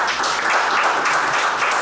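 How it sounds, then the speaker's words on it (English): An audience at a startup panel applauding a speaker with dense, steady clapping, close and continuous for about two seconds without talk. "So let's give him a round of applause."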